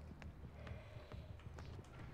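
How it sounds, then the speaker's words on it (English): The Spirit's footsteps in Dead by Daylight come as a quick series of soft, evenly paced thuds over a murky, low-level game ambience. "You can hear her footsteps."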